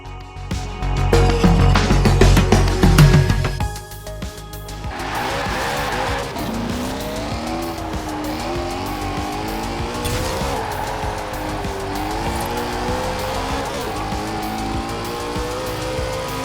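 Koenigsegg Agera RS in Forza Horizon 4 roars hard for the first few seconds, then settles into a sustained high engine drone with long wavering tire squeal and skidding, steady and loud throughout.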